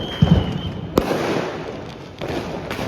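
Firecrackers going off on Diwali night in Surat: a cluster of sharp pops near the start, then a single loud crack, over a steady hiss of crowd noise and distant bangs.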